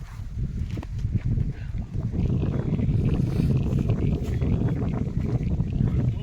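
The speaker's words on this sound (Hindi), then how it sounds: "लेकर चलते हैं ट्रैक्टर को।" A farm tractor climbs a slight uphill slope in first gear, its engine a steady, loud low rumble throughout, with wind buffeting the microphone.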